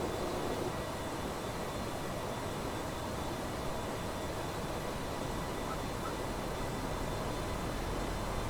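A propeller aircraft's engine in Microsoft Flight Simulator X, a steady, close drone with broad hiss that stays even throughout and never lets up, with no talk over it.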